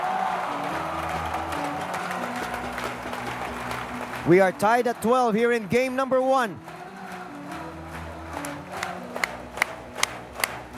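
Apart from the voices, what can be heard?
arena crowd cheering at a badminton match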